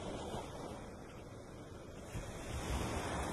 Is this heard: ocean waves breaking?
yes